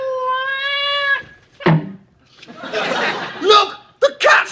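A cat's meow and choking sounds come from a comedy sketch: a long, drawn-out, tonal yowl, a sharp strangled squawk, then spluttering, gagging bursts mixed with laughter, all loud and close.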